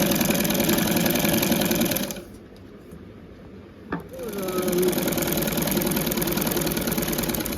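A domestic sewing machine, freshly fitted with a new bobbin and case, whirs loudly and steadily while stitching, stops for a couple of seconds with a single click, then starts up again at the same steady pace.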